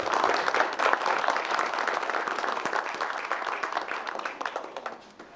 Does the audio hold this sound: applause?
yes